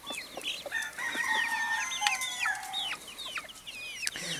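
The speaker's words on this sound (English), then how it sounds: "all of the little chicks are actually getting quite big now" Chickens and growing chicks on a homestead, with overlapping clucks, squawks and a crowing call, fairly close and continuous, busy layered poultry chatter with no talk.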